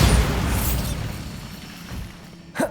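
A Bombarda blast spell goes off in the video game Hogwarts Legacy: a loud, broad explosive burst that rumbles and slowly fades, then a short sharp pop near the end.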